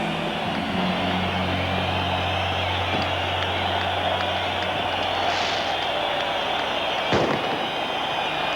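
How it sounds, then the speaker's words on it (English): A constant loud roar of crackling and booming fills the scene, with a sharp bang standing out near the end. "in the middle of fireworks and explosions"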